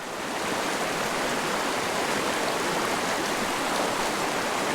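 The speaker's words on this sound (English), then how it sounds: "It's a beautiful creek." Steady broadband rush of a flowing overgrown creek, continuous and close, with no talking over it.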